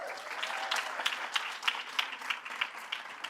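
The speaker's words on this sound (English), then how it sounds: "Please clap it up for Rihanna Boyton." Audience applauding at a school district sports awards ceremony, a moderate round of scattered claps with sharper individual hits, fairly distant in a large room.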